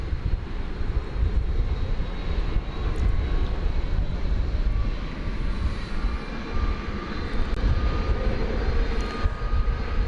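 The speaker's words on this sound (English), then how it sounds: "755, an A300. Which is getting pushed back to begin its flight to Chicago Rockford International Airport." An Airbus A300 cargo jet being pushed back at DFW airport, with a steady broadband engine roar holding at a constant loud level from a moderate distance, alone with no voices.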